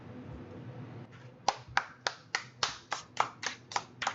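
Single person clapping hands about ten times in a quick, even rhythm, sharp and close, after a brief quiet pause with faint room noise.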